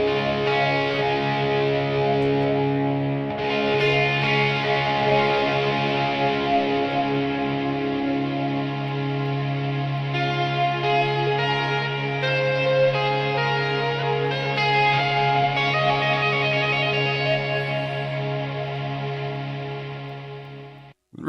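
An instrument played through a signal chain of delay and reverb effects rings out in sustained, layered tones, with echoing repeats blooming over a held pad, loud and continuous before cutting off abruptly.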